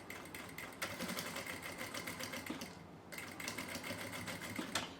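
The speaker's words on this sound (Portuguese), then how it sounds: "Quando eu passo pelas união aqui das costuras, eu gosto sempre de fazer um retrocesso para reforçar essa costura." Sewing machine stitching a bag seam with a backstitch, a quiet rapid mechanical chatter in short runs with a brief pause where the stitching reverses direction.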